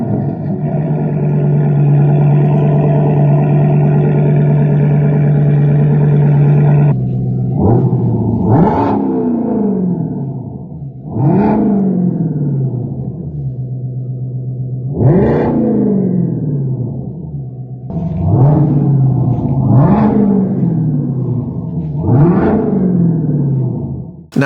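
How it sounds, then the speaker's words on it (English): A Baller electronic exhaust sound system on a Ford Mustang Mach-E produces a loud synthesized engine note: a steady droning idle first, then a series of rising revs that surge and fall back, loud and close. "I know Baller do an exhaust for the Mustang Mach-E"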